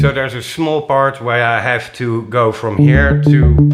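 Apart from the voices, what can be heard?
No everyday noises stand out.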